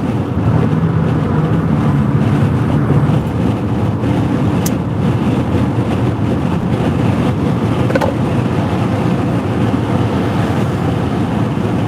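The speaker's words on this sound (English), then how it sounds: "Here comes some big trucks." Big trucks pass on a Texas road in a loud, continuous rumble and roar of engines and tires, steady and near, with wind buffeting the microphone and no talk.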